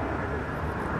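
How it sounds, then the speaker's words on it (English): An airplane flying overhead on a clear day outdoors, heard as a continuous, fairly loud broadband roar with no break. "Excuse the plane right now."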